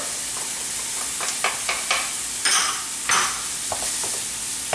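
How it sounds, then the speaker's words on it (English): Diced sweet onion, fresh thyme leaves and minced garlic sizzle in a pan while a utensil stirs them, producing scraping strokes and bursts of crackle over a steady frying hiss. "We're going to stir this and let this cook for about 2 to 3 minutes"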